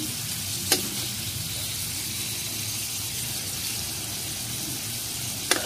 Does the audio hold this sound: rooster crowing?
no